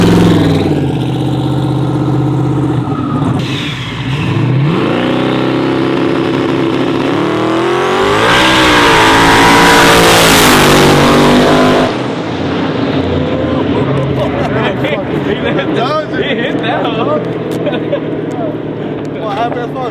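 A twin-turbo 4x4 truck engine idles, then revs hard and climbs in pitch during a street pull before dropping off, loud and close, with people talking over it.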